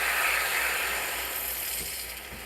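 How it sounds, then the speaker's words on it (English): Pump of a Breville espresso machine running ahead of steaming milk, a steady close buzzing hiss with faint mechanical rattling that eases slightly toward the end, no voices. "you hear the pump?"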